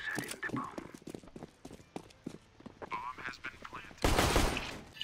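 Burst of AK rifle fire in the CS:GO shooter game, a loud sustained volley near the end following a stretch of in-game footsteps and chatter, with a player talking throughout.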